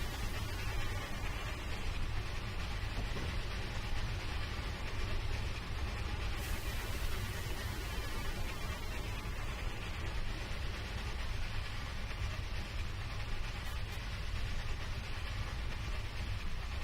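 Steam locomotive in Train Simulator 2015 running steadily, a dense continuous roar of exhaust and hiss that stays loud and even throughout, with a brief brighter burst partway through.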